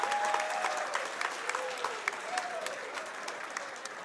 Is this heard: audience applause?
yes